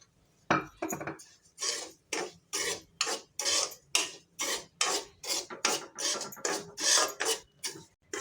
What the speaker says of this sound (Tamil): சிம்லேயே வச்சு நல்லா வறுத்து எடுத்துக்கோங்க